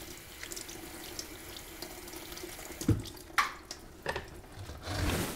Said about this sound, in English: And I'm going to rinse thoroughly.